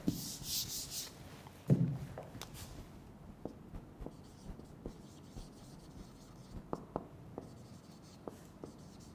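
Chalk or marker writing an English sentence on a classroom board, with several short scratchy strokes and taps after an opening louder rub, the pen work close and fairly quiet.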